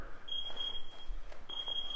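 A kids' Brazilian jiu-jitsu class timer beeps in two quick bursts of high, thin electronic tones over faint room noise, close by and without talk.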